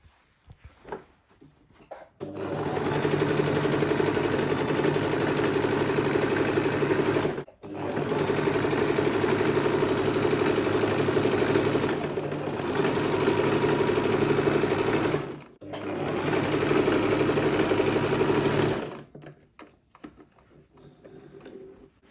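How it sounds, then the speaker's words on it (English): A sewing machine stitches the side seams of a Butterfly Bubu dress, running in three long, steady close-up bursts separated by brief pauses, with no talking. "Now the next thing right now is to take it to the machine and sew the side."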